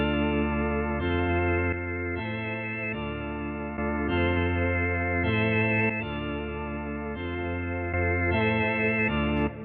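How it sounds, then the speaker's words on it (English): A looping electronic beat with a deep 808 bass pushed through distortion, gritty and saturated, playing loud and continuous for about ten seconds with no talking. "I'm just basically adding a little distortion just to bring it up, the level up a little bit, and to make it sound a little bit dirtier"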